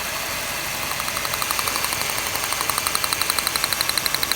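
A Ford Taurus with a 3.0 V6 idles unevenly with a cylinder misfire. The steady engine hum carries a regular ticking pulse that grows more distinct, about six beats per second.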